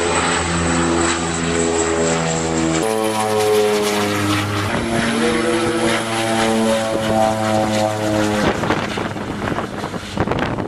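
A propeller airplane takes off in windy weather, its engines roaring loud and close with a droning, shifting pitch as power builds, and no voices over it.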